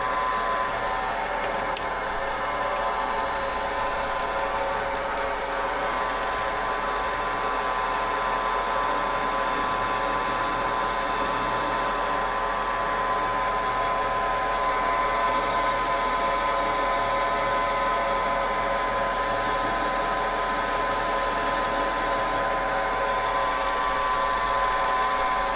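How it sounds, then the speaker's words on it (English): A tool chamfering the edges of drilled stud holes in a Mazda 13B Renesis rotary engine makes a constant, loud mechanical whine and hum, unbroken for the whole stretch. "I'll just chamfer the edge."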